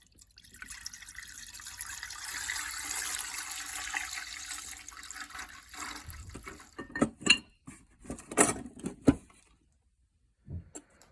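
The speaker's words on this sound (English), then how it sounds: "So I'll dump it full of the cleaning solution, and then we'll let that sit." Cleaning solution poured into an ultrasonic cleaner holding grinder parts: a soft steady pour for several seconds, then scattered drips, splashes and glassy clinks before falling quiet.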